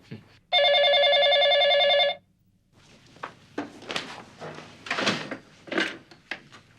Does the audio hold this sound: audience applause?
no